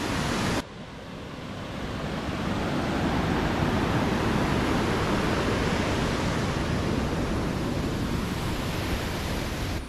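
Water roars with force at the Anachadikuthu waterfall in a dense, unbroken rush that starts abruptly and holds steady and loud to the end.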